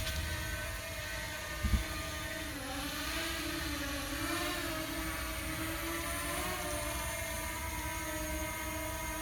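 A drone flying over Broughton in Salford as it comes in to land gives off a steady, droning motor whine whose pitch wavers and shifts throughout, with no talking.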